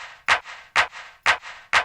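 Four sharp handclaps in a steady, even rhythm, crisp and close, with a faint sustained tone underneath.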